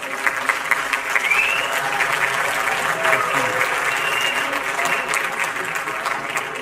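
An audience at a live comedy show claps loudly to welcome a Sachin Tendulkar lookalike, a broad, sustained burst of applause with scattered louder claps and no talking.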